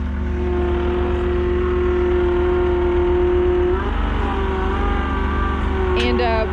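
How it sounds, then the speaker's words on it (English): A skid steer or excavator engine runs steadily and loud up close, a constant diesel drone with a shift in pitch near the end, working on a cattle ranch. "We're gonna hook up the blade to the skid steer and then move the excavator"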